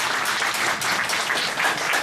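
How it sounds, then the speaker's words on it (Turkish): A crowd at an outdoor market claps in a short, steady burst, continuous applause at moderate distance without pauses. "En azından ya fazla beğendiyseniz alkış tutarsınız."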